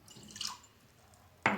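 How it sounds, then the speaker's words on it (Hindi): A little water is poured into a container to make a solution of detergent used for washing winter clothes. Two brief, close splashes are heard, one early and a sharper one near the end, with quiet between. "इसमें थोड़ा सा पानी डालेंगे"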